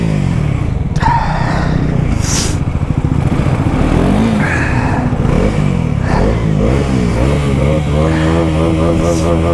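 Bajaj NS400z and KTM RC390 motorcycles at full throttle in a drag race, engines revving hard through the gears with rising, sustained loud engine roar and occasional shifts, close and continuous.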